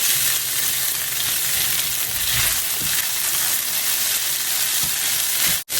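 Rice frying in olive oil, a steady close sizzle with a soft hiss that runs through the whole stretch, broken by a few faint stirring scrapes and cut off abruptly at the very end.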